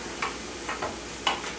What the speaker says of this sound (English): All we're doing is frying that up.